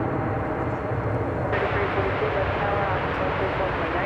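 American Airlines Airbus A321neo departing DFW Airport, a steady, fairly distant broadband jet roar holding constant throughout.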